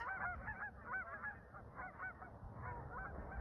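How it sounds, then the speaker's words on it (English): Loud honking calls from a flock of waterfowl, ducks and geese, carry on continuously and overlap in a noisy, busy chorus close by with no talking. "There's a ruckus with the ducks."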